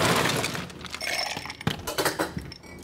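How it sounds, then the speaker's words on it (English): A Canon Cocktail made with amaro, stirred with ice in a mixing glass. Ice clinks and rattles against the glass in a busy, close, uneven run of chinks, with no voices. "We're going to stir this up."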